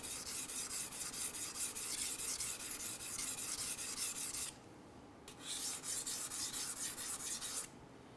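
A kitchen knife blade is rubbed back and forth across a whetstone, making a steady, close rasping scrape in repeated strokes, with two brief pauses near the end.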